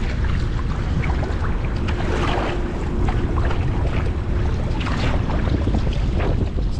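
Steady wind buffets the microphone on a fishing boat out at sea, with a continuous roar and low rumble throughout and no voices.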